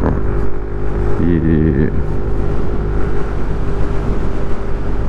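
Suzuki Address 110 scooter riding through town, its small engine a steady close drone throughout, with a brief tonal whine partway through and someone talking over it.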